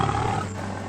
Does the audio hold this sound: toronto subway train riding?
no